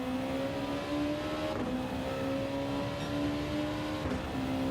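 A race car engine at Suzuka in Gran Turismo 7 drones at high revs without pause, its pitch gliding upward in steady pulls broken by short dips at gear changes, loud and constant.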